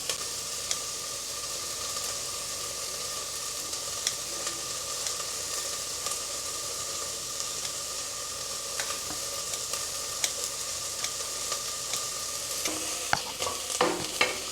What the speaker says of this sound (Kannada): ಆನಿಯನ್ನ ಈ ರೀತಿ ಚೆನ್ನಾಗಿ ಹುರ್ಕೋಬೇಕು